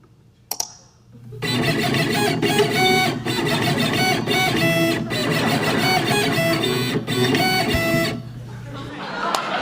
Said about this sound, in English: the stepper motors that I'm using in this thing kind of can make different noises